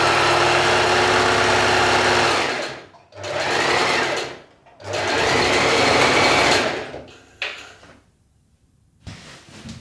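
A domestic sewing machine stitches along a fabric panel for a summer waist-tie top in loud whirring bursts, running about three seconds, pausing, then running again, with a few shorter stops and starts at the end.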